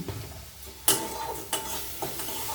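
Spice paste fried and stirred in oil in a pan while cooking a Bengali shol fish and potato curry: a steady sizzle with a few sharp scraping stirs, close and moderately loud, no talking.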